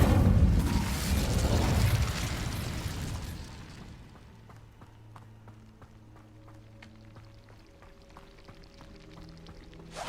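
Incendio fire spell cast in Hogwarts Legacy, a loud roaring burst of flame for the first few seconds that fades into a quieter bed of soft tones and faint clicks.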